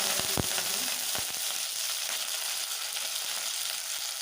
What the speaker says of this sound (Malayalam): കടുക് പൊട്ടി വന്നിട്ടുണ്ട് ഇനി നമുക്ക് ഇതിലേക്ക് കറിവേപ്പില കൂടി ചേർത്ത് കൊടുക്കാം